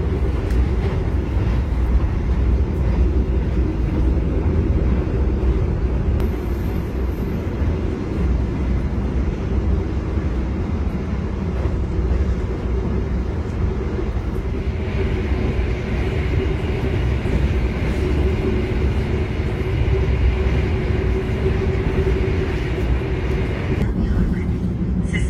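Steady interior rumble of the KA Sembrani executive-class train running at night in Indonesia near Pekalongan, a continuous low drone of wheels and carriage noise holding level throughout with no clear voices.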